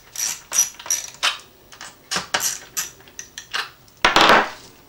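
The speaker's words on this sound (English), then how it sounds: "Fits my little ratchet here." A small 1/4-inch drive ratchet turning a 1/4-inch deep socket, giving short bursts of clicking pawl strokes in an irregular run, close and fairly crisp, with a few light metallic clinks and no talking.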